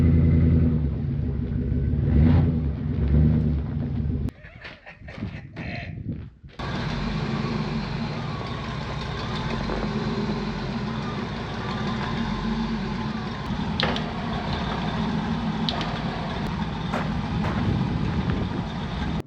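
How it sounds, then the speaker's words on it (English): A Chevy 2500 truck, its front axle partly removed in a shop, rumbles forward under steady low engine drone, with a brief drop in noise partway through before the engine sound resumes and continues throughout. "Let's drive the Chevy forward, see if we can get this out from under there."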